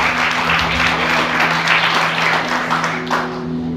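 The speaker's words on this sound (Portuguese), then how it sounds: "Você pode aplaudir Jesus bem forte" Church congregation clapping loudly for Jesus at a Portuguese-language service, dense sustained applause over a steady organ-like tone, easing slightly near the end.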